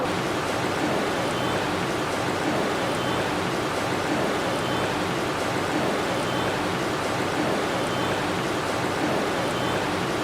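Lentil fritters (bora) sizzle steadily in hot oil on a stove for a Bengali iftar recipe, a dense, even hiss that holds at the same level throughout, with no talking.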